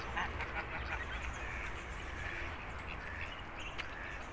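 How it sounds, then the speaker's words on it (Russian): Ducks quack and honk outdoors, faint and somewhat distant, with scattered calls over a steady low background rumble. "Замечательные уточки."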